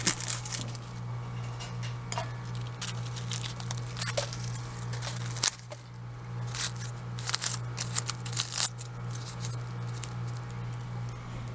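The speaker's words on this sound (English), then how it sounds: "Cut off the roots, brush off some of the dirt." Roots are snipped off soft neck garlic bulbs and dirt is brushed away, giving close, irregular clicks, snips and dry rustling over a low steady hum.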